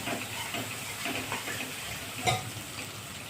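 Chole masala sautés in hot oil until the oil separates, giving a steady, close sizzling hiss with faint stirring scrapes and one brief louder clink near the end, no voices.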